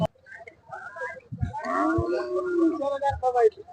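Oxen at a village cattle fair in Aigali, Karnataka, giving a long, loud, drawn-out low moo near the microphone, with some fair clatter and scattered sounds around it.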